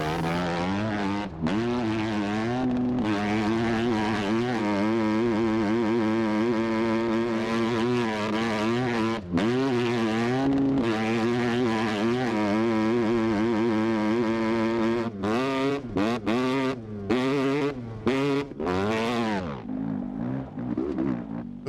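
A dirt bike engine in the video game Scum drones steadily and loudly, its pitch rising and falling as the rider ramps off a bridge, with a few brief cutouts near the end.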